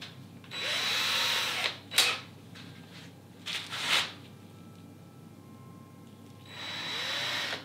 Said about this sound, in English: I'm just going to use a drill driver to pop that small hole in